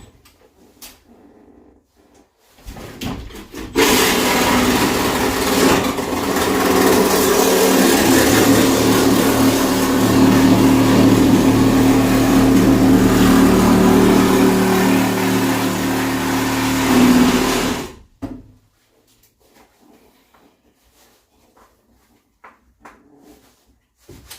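A grinder runs loud and steady for about fourteen seconds, with a harsh broadband whine that starts and cuts off abruptly, with quiet room noise before and after.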